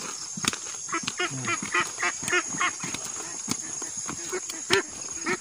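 Farm ducks being evacuated, a flock giving repeated close quacks in busy overlapping bursts over a steady hiss of background noise, with scattered knocks and some voices mixed in.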